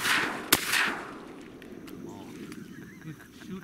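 A Benelli SBE 3 shotgun fires during a teal duck hunt, one sharp loud blast near the start above broad outdoor noise, with geese or ducks calling around it.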